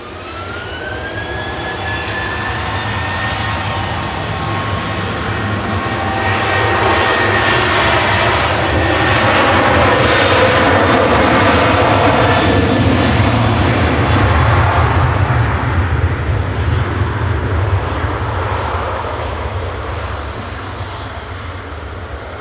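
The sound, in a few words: Ryanair jet airliner taking off for Vienna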